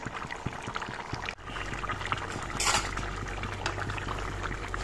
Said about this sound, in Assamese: এইখিনি এতিয়া মই 5 মিনিট সময় আৰু ভালদৰে উতলা মাছেৰে সৈতে ইয়াৰ উতলিব দিলোঁ